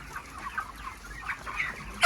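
Chickens at a poultry farm cluck continuously at moderate volume, with scattered louder calls and no speech over them.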